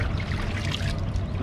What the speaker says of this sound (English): I'm just filling up my bait tank